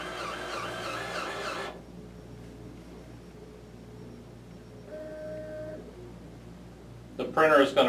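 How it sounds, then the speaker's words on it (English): A Viper 2 garment printer prints a white underbase layer onto a black shirt. A hissing mechanical whir gives way to faint motor hum and short tonal whines, and a voice briefly cuts in at the end. "The printer is going to print the white underbase layer first."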